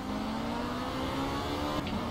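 Race car engine in the video game Project Cars, lapping Monaco and doing burnouts to warm the rear tyres: a steady, loud droning whine held at high revs with no voices.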